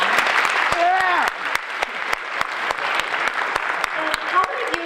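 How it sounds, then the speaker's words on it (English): An audience claps for the Asian American Club at an Asian American Culture Day gathering, steady sharp handclaps running throughout, with a cheer and voices rising over the applause. "Can we just give another round of applause for the Asian American Club who put this on?"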